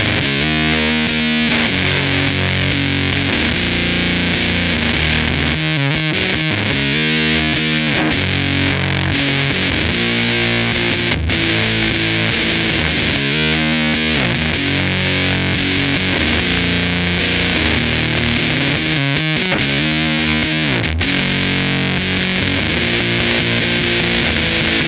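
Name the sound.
electric guitar through Boss TB-2w Tone Bender fuzz pedal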